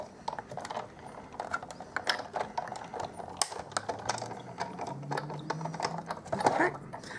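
A Stampin' Up Big Shot die-cutting machine is cranked by hand, giving a continuous close ratcheting, clicking grind of gears as the cutting plates feed through.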